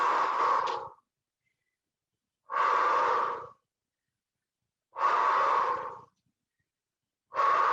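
Slow, audible exhalations during an early-morning group exercise session, four long breaths out spaced evenly about two seconds apart, close and clear with silence between them.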